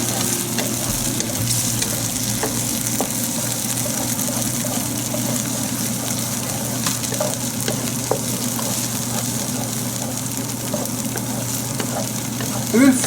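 Whole spices (cinnamon, mace, green cardamom, cloves and black peppercorns) fry in oil over medium-high heat for Mughlai chicken. A steady, soft sizzle runs throughout, with occasional light stirring clicks.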